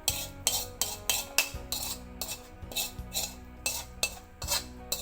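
A metal ladle scrapes and clinks rhythmically against a pot and dishes while scooping beef laab soup, about a dozen bright, evenly spaced clanks over a low steady hum.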